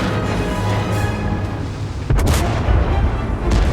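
An E 50 M tank gun fires in World of Tanks: one loud, deep boom with a sharp crack lands partway through, over a constant heavy rumble of the tank.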